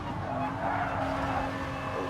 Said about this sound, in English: now into the carousel section, hard on the brakes.